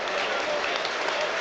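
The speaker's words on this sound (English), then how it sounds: "The applause around us for Greenwood as he heads towards the Kop end as well." A football crowd at Liverpool's ground applauds Greenwood as he walks toward the Kop end, a dense steady wash of clapping filling the stadium throughout.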